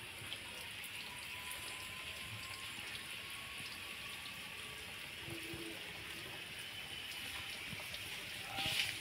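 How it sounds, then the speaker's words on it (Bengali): Water pours steadily into an outdoor pond to fill it, a constant rushing flow at moderate level throughout with a slight swell near the end and no talking. "আমাদের এই যে পুকুরে জল ভর্তি হচ্ছে"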